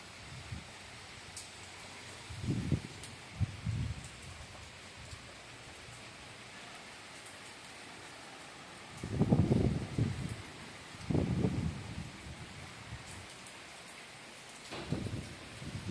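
Heavy downpour falling in a home garden with a mango tree, a steady wash of rain noise broken by several louder gusty surges of rustling, no voices present.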